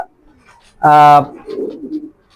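A racing pigeon gives a single loud, close coo, followed by softer throaty murmuring.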